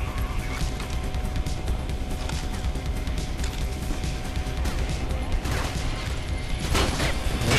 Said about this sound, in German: Schüsse, sie kommen von irgendwo.